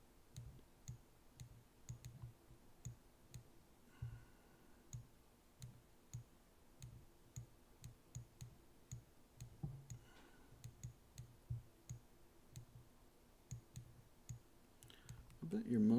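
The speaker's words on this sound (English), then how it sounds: "I think that clicking is probably pretty loud, like the mouse clicking." Computer mouse clicks sound during a live stream, sharp and quiet, coming in an irregular but frequent pattern over a low room background, with faint voice sounds now and then.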